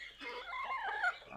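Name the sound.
Light Brahma chickens clucking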